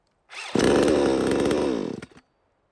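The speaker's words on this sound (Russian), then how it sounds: "Пила заводится довольно-таки неплохо. С одного нажатия кнопки все происходит моментально." An electric-start chainsaw fires up at the push of a button, roaring loudly and steadily for about a second and a half before cutting off, with no voices.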